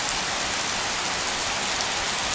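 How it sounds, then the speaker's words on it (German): Steady rain falling in the High Tatras mountains, a dense continuous hiss close by with no break across the short stretch and no voices. "Herrlich, so ein Regen."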